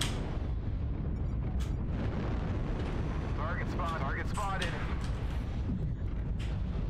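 Explosions from an artillery strike in the mech combat game MechWarrior Online. Several deep booms rumble over constant battle noise, with a talking voice and a few brief electronic chirps in the middle.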